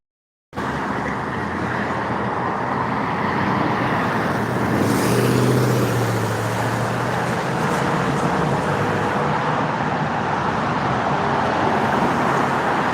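Road traffic streaming past, a steady broadband rumble of cars and heavier vehicles that starts abruptly and holds at a constant, fairly loud level, with one vehicle swelling by near the middle.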